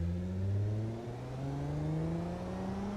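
A minivan engine in the BeamNG driving game hums steadily and accelerates, its pitch rising through the gears with a brief shift partway. The sound is smooth and moderately quiet, with no talk.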